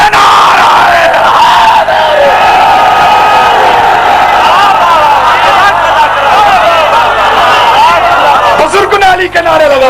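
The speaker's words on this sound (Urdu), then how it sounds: "بزرگ علی کے نعرے لگا رہے ہیں" A large crowd raises a loud, continuous chant of religious slogans for Ali at a sermon gathering. The voices stay dense and sustained from start to finish, with shouted calls mixing into the wall of sound.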